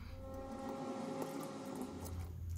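AOKFLY RV1407 3700KV drone motors spin 4-inch propellers on a 3S battery, a steady, faint, close whirring hum with a sustained tonal drone, alone without speech.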